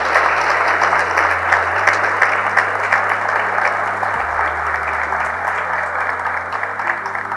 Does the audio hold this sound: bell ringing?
no